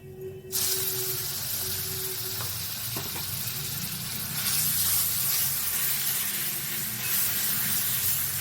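Generous amount of garlic dropped into hot oil for a cauliflower-leaf paste dish, erupting into a loud, continuous sizzle after a brief quiet start and intensifying midway, with faint stirring clinks and no talk.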